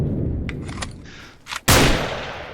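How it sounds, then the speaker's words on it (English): Gunfire in the video game Mount & Blade II: a few sharp shots crack out, then one very loud, close blast with a long ringing tail dominates the end. "as you can tell, gunfire is really loud"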